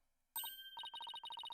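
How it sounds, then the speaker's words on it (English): Bright electronic jingling bells from the video game Phoenix Wright: Ace Attorney, a quick burst of rapid, evenly spaced chiming notes ringing clearly on their own after a brief silence. "Footsteps change into bells."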